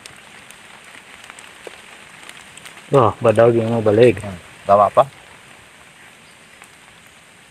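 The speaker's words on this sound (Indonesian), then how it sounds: "Lihat loh hujan." Steady rain falls over a rice field, a soft continuous wash of drops heard close by, with a person speaking briefly partway through.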